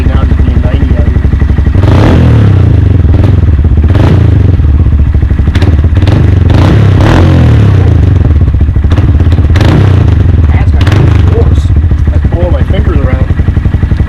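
A motorcycle fitted with a Yoshimura exhaust idles loud and close with a deep, throbbing low rumble, broken by several sharp blips of revving and some clattering thumps.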